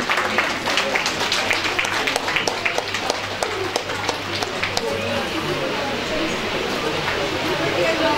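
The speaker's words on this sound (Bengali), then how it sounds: "আবার জোরে হাততালি হোক।" Sustained audience applause at a college endowment prize distribution ceremony, steady dense clapping filling the hall throughout, with voices faintly underneath.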